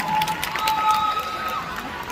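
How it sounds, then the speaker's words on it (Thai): A crowd applauds and cheers after a concert at The Grand Con, a dense wash of clapping with scattered shouts, heard from within the audience. "ขอเสียงปรบมือดังๆได้ไหมคะ"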